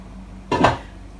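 A single brief clatter of frozen pondu (cassava leaves) dropping into a metal saucepan, a quick knock and rattle standing out against quiet background hum.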